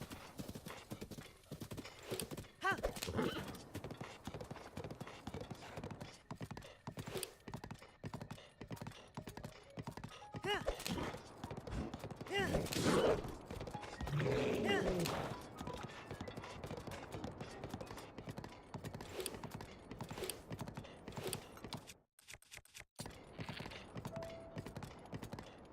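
Hooves beat in a rapid, steady clip-clop rhythm as a horse gallops in Zelda: Breath of the Wild, with a neigh in the middle and the hoofbeats continuing after it, then a short pause near the end.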